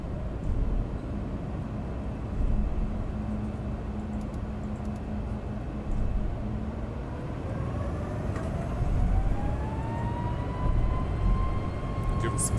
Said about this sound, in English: Auto throttles arm. Notify him one last time. Throttles 40.